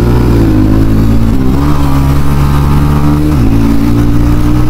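A TVS Ronin 225 motorcycle roars loud and close as it rides, its engine note holding steady then dipping briefly between gear changes and climbing again.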